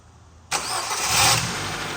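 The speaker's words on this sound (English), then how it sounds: "Car starting in 3, 2," Engine pulled from a breaker's yard cranks and catches about halfway in, then settles into a steady, fairly loud idle close by after a quiet lead-in.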